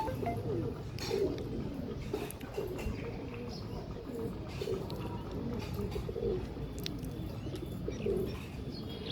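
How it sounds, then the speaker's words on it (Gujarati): Soft, low pigeon cooing repeats in a steady rolling murmur, with occasional faint chirps and a bit of background noise. "આ બધાને ગુગડું ગુગડું કરતા જ આવડે છે"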